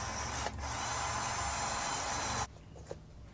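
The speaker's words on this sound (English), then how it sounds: "This little spring punch thing, actually it just poked through by itself." A small spring punch pokes through a metal can on a workbench, a sustained close grinding rasp with a sharp click at the start that stops abruptly, leaving a faint tap afterward.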